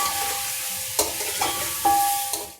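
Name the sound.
chicken frying in a pot with spices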